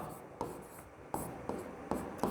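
Chalk or marker strokes on a board, several short scratchy bursts in an uneven rhythm, close and fairly quiet with no speech over them.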